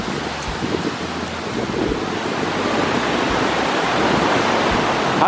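Steady broadband rush of wind and ocean swells on a cruise ship's promenade deck beneath the lifeboats in extremely cold weather, a constant roar that swells slightly louder toward the end, with no voices.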